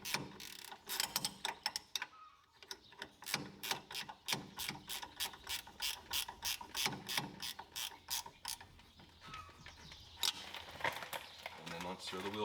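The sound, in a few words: ratchet tightening brake caliper bolts on Polaris Ranger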